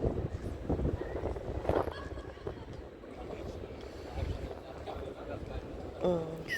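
A free passenger ferry in Auckland cruises across the water with a steady rumbling engine and wash, with wind buffeting the microphone and people talking over the noise.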